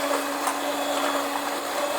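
An electric hand mixer beats carrot cake batter after eggs are added, giving a steady, loud, unbroken whirring drone close by with no voices.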